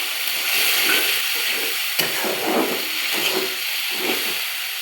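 Ground spice paste in a hot pan, cooking for a rui fish curry, sizzles and hisses steadily after a splash of water. The frying stays loud and continuous, with soft stirring scrapes now and then.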